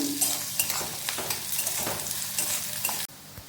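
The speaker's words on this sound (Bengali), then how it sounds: "এবার এর মধ্যে আমি পেঁয়াজ কুচি আর কাঁচা মরিচের কুচি দিয়ে দিচ্ছি" Chopped onion and green chilli fry in hot oil with a bright continuous sizzle and repeated spatula scrapes and stirs, ending in a sudden cutoff.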